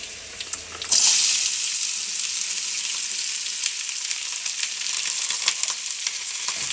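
Sliced onions hit hot oil in a pan for an okra and onion curry, bursting into a loud, steady sizzle that holds on close and unbroken with light crackles throughout.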